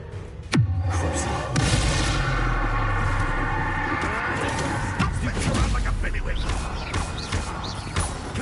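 Bombarda blasting spell explosion in Hogwarts Legacy, a sharp bang followed by a long rumbling, crackling roar and scattered debris clatter, with a voice speaking over the din.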